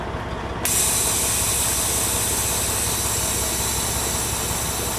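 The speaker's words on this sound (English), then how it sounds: "Release the parking brake." The parking brake on a truck is released, giving a sudden loud burst of air that starts abruptly and then hisses steadily and close over the engine's idle.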